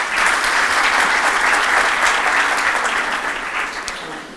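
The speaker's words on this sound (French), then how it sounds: "Vous allez applaudir encore une fois" Audience clapping at a business school speech ceremony, a dense sustained round of applause from many hands, loud and close, slowly tapering toward the end.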